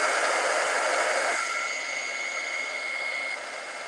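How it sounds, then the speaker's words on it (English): A heat gun blowing on embossing powder to melt it, a steady close whooshing hiss of hot air that holds throughout and drops slightly in pitch and level partway through, with no talking. "when I turn on my heat gun here, you're not going to be able to hear me anymore"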